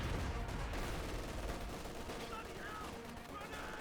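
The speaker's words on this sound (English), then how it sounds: "Rapid grenade fired." Rapid grenade fire and dense gunfire in a Company of Heroes 2 battle, a continuous loud barrage of overlapping shots and blasts with no pause, under a steady din of combat.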